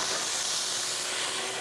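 Shellfish sizzling in hot olive oil in a pan give a steady, close, even frying hiss throughout, with no voices.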